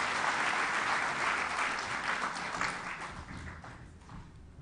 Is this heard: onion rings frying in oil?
no